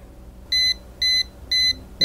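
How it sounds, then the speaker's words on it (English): Four evenly spaced high electronic beeps from the buzzer of a Mini Electronic Thermostat 32934 MP, each about a quarter second long, loud and close over a quiet background. "the buzzer goes off and starts displaying the temperature again"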